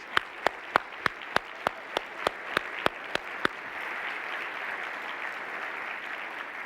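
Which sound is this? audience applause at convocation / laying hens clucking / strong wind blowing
audience applause at convocation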